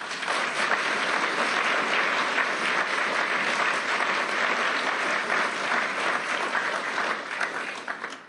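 Warm applause from a large audience welcoming the President of Ukraine at Davos, with dense, sustained clapping that holds steady for about eight seconds before tapering slightly.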